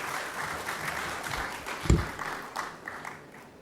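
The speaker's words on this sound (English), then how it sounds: "Please, a round of applause for Ms. Holder" Audience applause at an awards ceremony in the Parliament of Trinidad and Tobago, a steady moderate wash of clapping for the full length with a louder thump near the middle, fairly distant and without speech.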